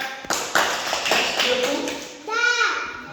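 Hands clapping in a children's alphabet lesson, a few sharp claps heard among a child's and an adult's speech, close and fairly loud.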